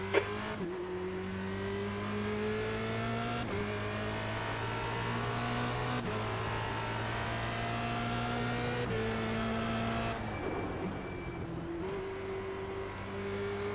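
A Formula Renault 2.0 race car lapping Oulton Park in a racing sim, its engine screaming through repeated upshifts with rising pitch, each gear change cutting sharply, and a brief lift and squeal near the end.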